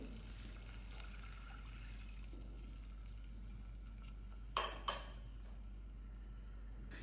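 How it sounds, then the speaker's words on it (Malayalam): Water trickles and splashes softly into a pan of quinoa for upma under a steady low hum, with a couple of sharper splashes near the end. "ഇനി ഇതിലേക്ക് ഞാൻ ഒരു ഗ്ലാസ് വെള്ളം ഒഴിച്ചു കൊടുക്കുന്നുണ്ട്"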